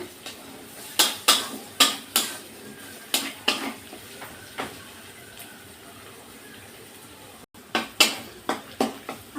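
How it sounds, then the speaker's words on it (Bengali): A metal utensil clanks and scrapes sharply, again and again, against a pan while potatoes fry for a mola fish dish with coriander leaves. The strokes come in irregular bursts with a short pause midway, and no voices are heard. "আর একটু ভাজা ভাজা করে নেব প্রায় ভাজা ভাজা হয়ে আসছে আলুগুলো গলেও গেছে"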